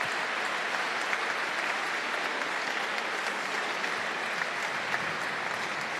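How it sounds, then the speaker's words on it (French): A crowd applauds during a cesta punta championship final in Pau, a steady, even wash of clapping from many spectators heard at some distance, sustained without breaks. "Les applaudissements"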